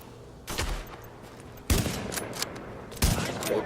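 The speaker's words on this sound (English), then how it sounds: "Alright, let's shotgun it now." Three loud, close shotgun blasts go off in The Division video game, each a sharp bang with a brief tail, spaced about a second apart.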